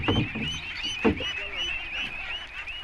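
Ducks on a riverside duck farm in Bangladesh, a flock quacking and honking in overlapping nasal calls, close and continuous.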